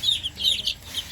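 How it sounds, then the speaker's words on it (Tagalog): Chickens cluck and chatter close by in quick, irregular bursts, with soft background noise. "Mababait yung mga manok na yan."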